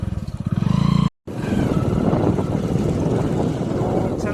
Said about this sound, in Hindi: और बाइक से अब हम चल रहे हैं अपने घर की ओर।